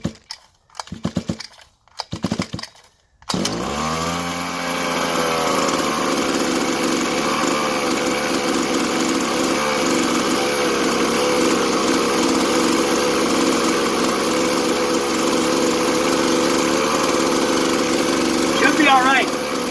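A 1/5 scale Exceed Barca 4x4 RC car's small gas engine fires up after a few brief pulls during break-in and then runs steadily at a high-pitched idle, close and continuous for the rest of the time.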